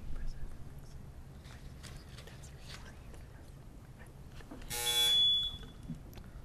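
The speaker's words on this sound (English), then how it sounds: "All right, the buzzer rang first." A single quiz-show buzzer sounds once, a brief harsh electronic tone lasting about a second, amid low murmuring and room noise.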